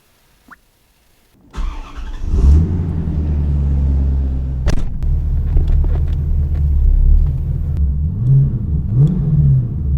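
Corvette engine cranks and catches after a brief quiet start, then settles into a loud, steady idle rumble with a few throttle blips and revs near the end, close by with no talking.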